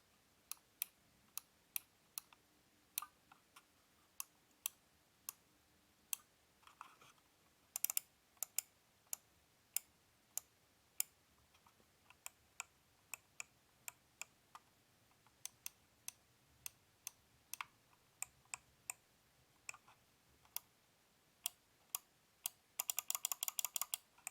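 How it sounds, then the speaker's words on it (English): Buttons on a Logitech G305 Lightspeed wireless gaming mouse clicked one after another up close, sharp isolated clicks at uneven intervals, some in pairs, ending in a fast burst of rapid clicking, no voices. "I'm going to give you a close-up click test once more, but this time with all the buttons"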